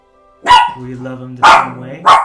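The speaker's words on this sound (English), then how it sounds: "That was my dog." A dog barks sharply three times in quick succession, loud and close, while a person speaks over and between the barks.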